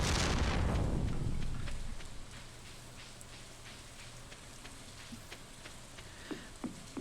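Rolling thunder in the Stardew Valley video game, a loud low boom that fades over about two seconds into steady rain, with a few faint soft pops following.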